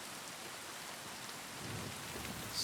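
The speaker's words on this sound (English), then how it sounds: "I love the sound of rain." Steady rain pours in Kingdom Come: Deliverance II, a dense continuous hiss with a low thunder rumble swelling toward the end, no voices.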